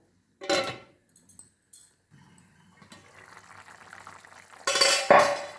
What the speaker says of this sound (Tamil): காய் மூடி வச்சிருவோம்